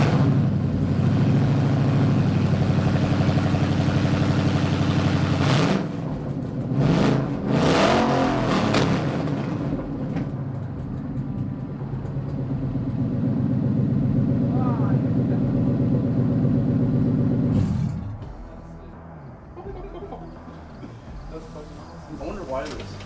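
Ford Coyote V8 mounted on a pallet runs at a loud, steady idle, is blipped with a few quick revs, settles back, then shuts off near the end.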